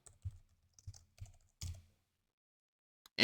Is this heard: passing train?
no